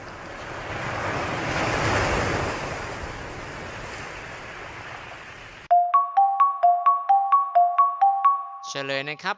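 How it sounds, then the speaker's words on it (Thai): Ocean waves surge and wash in a steady roar with wind, fading slightly, then cut off abruptly and a short electronic chime melody plays. "เป็นเสียงของคลื่นทะเล"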